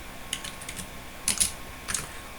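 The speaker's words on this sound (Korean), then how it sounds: "그럼 계산기를 갖다가 어떻게 누르시냐면 계산기 누르는 순서는요" Calculator keys pressed by hand, a few light plastic clicks in small clusters, close and quiet over faint room hiss.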